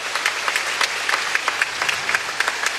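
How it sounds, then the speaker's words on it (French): Sustained applause from an arena crowd at a women's tennis award ceremony honouring a Russian player, steady dense clapping with scattered louder claps, continuous and fairly loud throughout. "Une nouvelle ovation du Spiroudome pour la joueuse russe."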